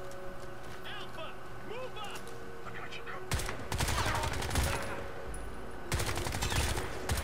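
Gunfire in the first-person shooter Crysis 3, dense bursts of automatic fire and explosions-like blasts erupting loudly after about three seconds, with a second burst near the end, over game ambience and background talk.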